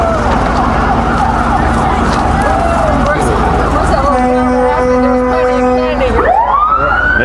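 A fire department's 2009 Kenworth tanker truck sounds its siren in a rodeo parade in Phillipsburg, a loud, close wail over crowd and engine noise that ends in a rising sweep.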